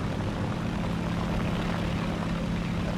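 A B-26 piston bomber in War Thunder, its propeller engines droning in a steady, loud, unbroken hum with no voices over it.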